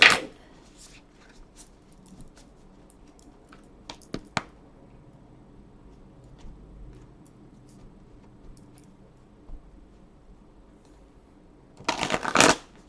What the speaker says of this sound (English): I'll give it 2 more shuffles.